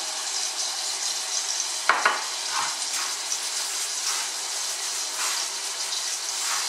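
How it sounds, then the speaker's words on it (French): Couscous grains being worked with a little oil by hand, a continuous soft, close rustling and scraping with a few brief louder rubs, no talking. "Je mets un petit peu d'huile sur le couscous, comme ça."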